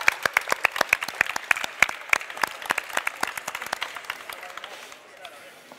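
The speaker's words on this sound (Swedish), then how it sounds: "En applåd för Jesper." A studio audience at a Swedish cooking competition semifinal claps for chef Jesper, with sharp, close hand claps in a quick, uneven rhythm that thin out and fade toward the end.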